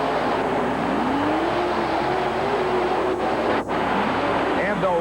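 Monster truck engines rumble and whine as the next pair of machines pulls up to the starting line at a USHRA event in Roanoke, under continuous commentary.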